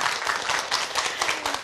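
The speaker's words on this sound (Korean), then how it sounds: "큰 박수로 맞이하겠습니다" An audience in a studio lecture hall gives warm applause to greet a guest speaker on ADHD, a thick, continuous patter of many hands clapping together without talk.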